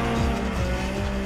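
Tires of a RAPiD RS13 drift car with a locked diff and solid aluminium suspension bushes squeal hard while sliding, over a loud engine roar, with repeated pitch sweeps in a brief, continuous burst.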